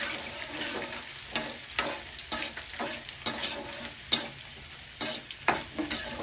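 Garlic sautéing in a pan for Chettinad green chili mandi, a steady close sizzle broken by repeated scraping stirs of the spatula at an uneven rhythm, with no talk.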